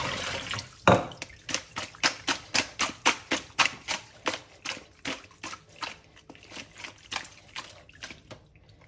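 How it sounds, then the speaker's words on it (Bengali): Tap water splashes into a kitchen sink while raw chicken is washed. It makes a close, steady run of rhythmic pulsing splashes that slowly ease off, with no voices. "কত পানি পড়ছে।"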